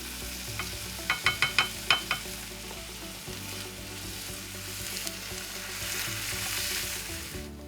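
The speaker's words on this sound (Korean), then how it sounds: "재료들을 볶아서 시판 라구 소스를 넣고 조금 더 볶아줬다." Ingredients stir-fry in a pan with store-bought ragu sauce. A quick run of sharp utensil clicks gives way to a continuous close sizzle.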